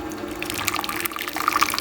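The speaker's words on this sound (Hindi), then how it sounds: "सबसे पहले इसके अंदर हम दूध जो तैयार किया ना वो डालेंगे।" Prepared milk for kulfa falooda pours into a bowl in a short, close, steady liquid stream with light splashing, no talk.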